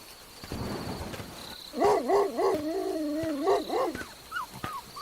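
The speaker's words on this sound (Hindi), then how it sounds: "तभी कहीं दूर से कुत्तों के रोने की आवाज आई" Dogs howl somewhere in the distance on a dark, rainy night, sending out long, wavering, mournful cries that rise and fall over a low rumbling background, then trail off into shorter yelps.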